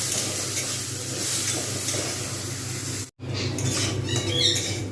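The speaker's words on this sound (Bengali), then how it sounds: "আমি এটাকে ভালোভাবে ভাজতে থাকবো" Ingredients for bottle gourd moong dal fry in a pan with a dense, steady sizzle and stirring scrapes, briefly dropping out for a moment before resuming just as loud.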